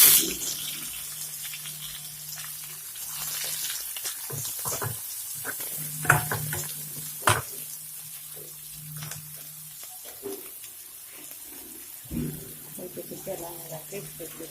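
A steady hiss of chopped onions frying and sizzling in hot oil for a prawn curry, with occasional clinks and scrapes, and a voice talking faintly at times.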